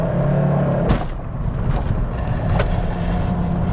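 Diesel engine of a Volvo V70 D5 around 3,000 rpm, steady low drone inside the car with brief dips and shifts as the gear changes up, close and continuous.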